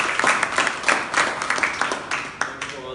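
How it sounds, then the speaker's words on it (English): Audience applause for a speaker named Martin at the close of a talk on ICO and DAO ratings at a Dash Thailand event, a few seconds of moderately loud clapping with distinct individual claps standing out from the crowd. "a big applause for Martin"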